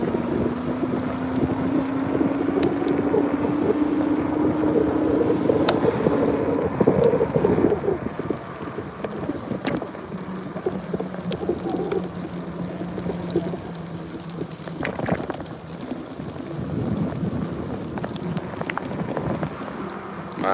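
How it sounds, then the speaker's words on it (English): Heavy rain pours steadily with gusty wind rumbling against the microphone, a dense continuous wash of noise with a low droning tone through the first half and no clear thunderclap. "My God, the rain."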